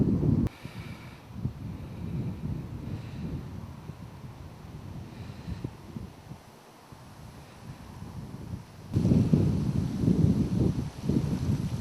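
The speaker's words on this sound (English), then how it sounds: "The wind started again." Wind buffeting a Sony HVR-A1J HDV camcorder's built-in microphone outdoors by a lake, low rumbling gusts that ease off mid-clip and then surge back louder near the end.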